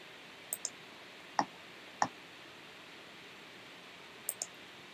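A computer mouse clicks while browsing Discord channels: a handful of sharp, faint clicks, a quick double click, then two single clicks, then another double, over a quiet hiss in a still room.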